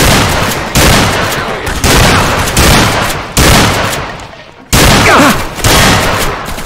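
Heavy gunfire in the game Atlas Uprising, loud repeated bursts of shots in a rapid, dense run, each burst starting abruptly and fading before the next, with no clear talk.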